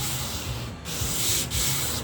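Continuous abrasive rubbing as the bodywork of a 1981 Oldsmobile G-body is sanded, a close, steady hiss with brief dips where the stroke changes direction.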